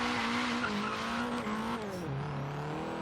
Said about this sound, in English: Hitting that red line